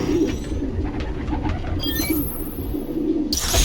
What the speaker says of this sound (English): The place was swarming with pigeons.